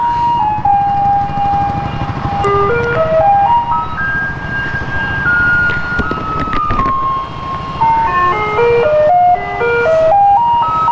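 A garbage truck's collection tune on a Taiwan street, a loud electronic chiming melody of clear stepped notes playing continuously and nearby, with traffic rumbling underneath.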